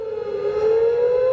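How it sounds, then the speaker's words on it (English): A civil defense siren sounds as a steady, sustained wail with a strong tone, continuous and fairly loud throughout, slightly rising in level midway, with no voices. "sirens are going off in certain cities"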